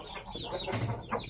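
Chickens during breeding time, a bull stag and a hen on a farm, give soft clucks and low fowl calls amid steady outdoor background noise.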